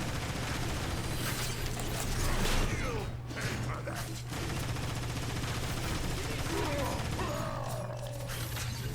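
A big gun fires in Transformers War for Cybertron, sharp bursts with mechanical clanks over a constant game hum, loud and near, interspersed with impacts and clatter.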